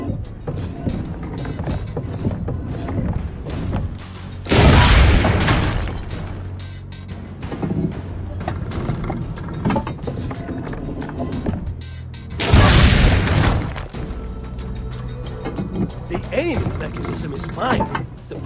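Two heavy cannon blasts from Assassin's Creed: Brotherhood, roughly eight seconds apart, each a loud, sharp boom with a short rumbling tail, set against busy in-game ambience and voices.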